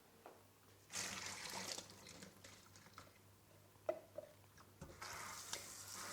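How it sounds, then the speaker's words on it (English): Soaked quinoa is rinsed under running water: two soft, hissing gushes of water, one early and one near the end, with light clatter and handling noises in between, all fairly quiet. "So you soak it overnight, and then you're going to rinse the quinoa."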